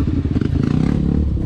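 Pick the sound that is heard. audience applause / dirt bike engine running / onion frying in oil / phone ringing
dirt bike engine running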